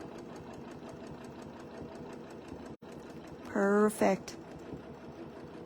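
A sewing machine stitching a quilt runs in a steady, fast mechanical whir that pauses briefly midway, with someone speaking over it near the end.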